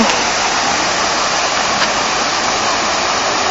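Water rushes steadily at the foot of Wawa Dam, a loud, dense, unbroken roar of falling and churning water that never lets up.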